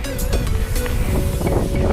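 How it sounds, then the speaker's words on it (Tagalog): Steady, loud wind rumble buffeting the microphone outdoors, a continuous low roar with gusty swells throughout. "Sarap ng hangin."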